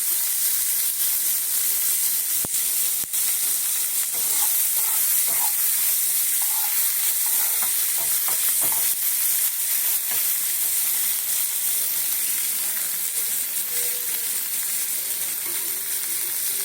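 Fish roe fries with chopped onion added to the pan, giving a loud, continuous close sizzle with occasional light stirring taps and crackles throughout.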